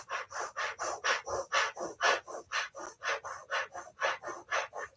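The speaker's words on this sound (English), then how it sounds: "taking that rolled tongue and doing breath of fire through it" Rapid breath of fire drawn through a rolled tongue in Kundalini yoga pranayama, a fast, even series of about twenty hissing breaths, close and moderately loud.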